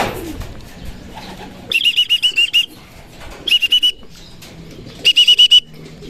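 A racing pigeon arriving at its loft during pooled race training in Cabuyao, Laguna: three loud bursts of rapid wing flapping, each carrying a thin whistling tone, separated by quieter background noise.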